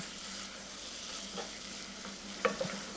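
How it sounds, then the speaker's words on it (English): Stilton cheese melting into fried onion in a pan, a soft, continuous sizzle with faint stirring scrapes and a couple of small clinks near the end, close and quiet, without speech. "Now add the Stilton to the fried onion. Now at this stage it can catch quite easily, so keep stirring it"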